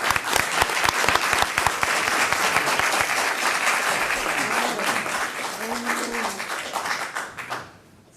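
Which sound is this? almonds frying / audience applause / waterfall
audience applause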